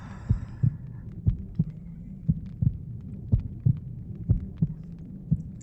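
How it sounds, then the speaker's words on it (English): Heartbeat sound effect from the video game The Witcher 2: Assassins of Kings, a steady double-thump pulse repeating about once a second over a low hum, with no speech. "the heartbeat sound is just unnecessary and uncomfortable"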